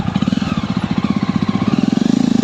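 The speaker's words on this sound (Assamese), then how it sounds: "এয়া বাইক লৈ যাওঁ অলপ দূৰ" A motorcycle engine runs steadily up close on a valley ride, its low rapid pulsing chug continuing throughout without pause.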